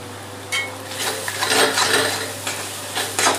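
Ground masala spices with salt frying in a pan for bottle gourd curry, a steady close sizzle with scraping stir strokes and soft clinks of a spoon against the pan.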